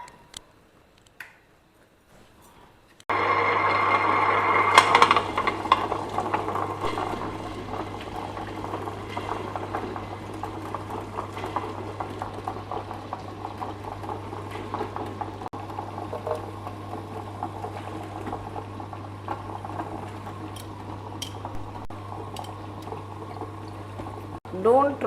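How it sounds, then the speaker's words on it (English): A wet grinder churns soaked lentils with a little water into vada batter, starting abruptly after a quiet moment and then droning steadily with a low motor hum and sloshing for the rest. "Today for the vadai, I am using my wet grinder."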